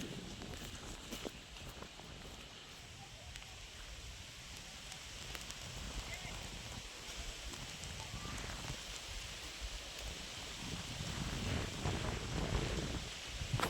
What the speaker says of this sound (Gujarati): વરસાદ આવે છે મિત્રો અત્યારે।